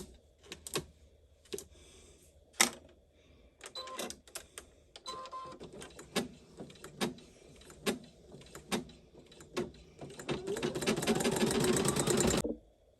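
An embroidery sewing machine stitches a snow globe base onto clear vinyl held in a hoop, with clusters of rhythmic mechanical clatter and pauses, ending in a long, loud continuous run of fast stitching.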